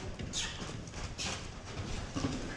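A horse canters on a short lunge line, its hooves striking in a steady rhythmic beat at moderate distance with no voices.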